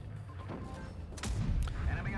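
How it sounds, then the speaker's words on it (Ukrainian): Tank cannon fire in a World of Tanks Blitz battle: two sharp, booming shots about half a second apart rise over a rumbling game-engine background. "Дуже такий цікавий постріл залітає"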